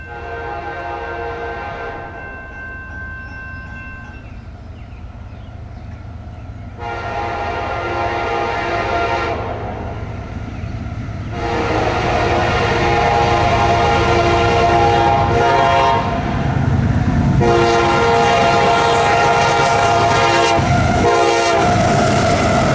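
A rebuilt CSX AC44 locomotive sounds its horn in long chords while a manifest freight train passes close by, the loud rumble and wheel clatter building and continuing after the horn ends.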